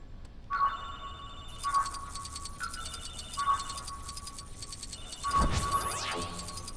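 A phone rings repeatedly in the Lego Marvel Avengers video game, electronic ringtone bursts in an even pattern, followed by a swooping tonal sound near the end.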